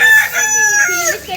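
A rooster crows once, close and loud, a single drawn-out crow lasting over a second with no talk over it.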